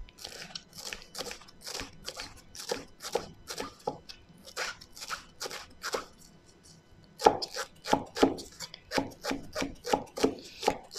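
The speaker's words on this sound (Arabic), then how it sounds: "هنفرم الكزبرة برضو ونضيفها عليه" A knife chops fresh coriander on a board in quick, crisp, rhythmic strokes, close and clear, with a brief pause before a louder, faster run of cuts.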